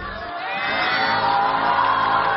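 A television studio audience cheers and whoops for a guest on a Chinese talk show, a loud sustained crowd roar that swells and holds, with no distinct clapping.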